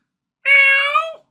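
A person's voice imitates a cat, giving one drawn-out, clear meow of about three quarters of a second after a short silence.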